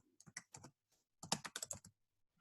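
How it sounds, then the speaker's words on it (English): Keys on a computer keyboard are tapped to enter a time during an elapsed-time lesson, two quick clusters of crisp, close keystrokes separated by a short pause. "So we're going to go ahead and type it in,"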